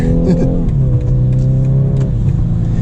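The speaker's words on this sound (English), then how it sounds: "Sounds a little coarse because it's a 4-cylinder" A 2021 BMW 430 convertible's four-cylinder engine revs up loud and close, its coarse, buzzy drone climbing as the car accelerates onto a highway, with road rumble underneath.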